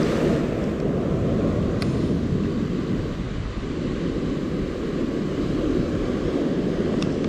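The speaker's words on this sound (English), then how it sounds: "The spot's just getting a little bit rough now with this water smacking the rocks here." Rough sea water smacks and churns against the rocks at Umdoni Point, a close, constant heavy roar with wind buffeting the microphone and no voices.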